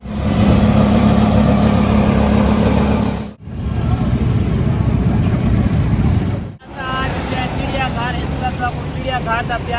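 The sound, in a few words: busy Lahore street traffic of rickshaws, chingchis and motorcycles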